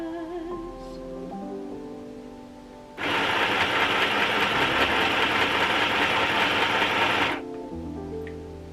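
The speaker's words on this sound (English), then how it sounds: "That just sewed a nice, perfect, straight line." Sewing machine stitching a straight line, a steady, loud mechanical whir that runs for about four seconds and then stops abruptly, with quiet background music before and after.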